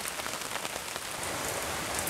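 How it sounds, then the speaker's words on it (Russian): Rain is falling, a dense, even patter of drops on surfaces filling the scene steadily from start to finish with no other sounds. "Ну, пошел дождик"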